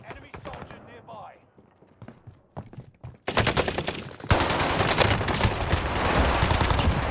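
A first-person shooter match: scattered single shots and game voice chatter give way to loud, sustained automatic gunfire in rapid bursts that fill the rest of the moment.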